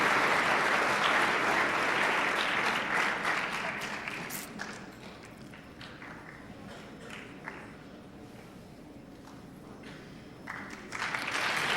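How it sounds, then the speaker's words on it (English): Audience applause at a high school speech individual events state finals awards ceremony, a sustained dense roar of clapping that thins slightly midway and swells again near the end, with no talk over it. "Keep clapping, they're coming."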